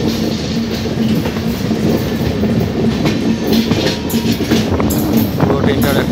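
The Uttar Sampark Kranti Express, running from New Delhi to Katra, rolls along the tracks with a loud, continuous rumble and faint rhythmic wheel clatter, heard from onboard.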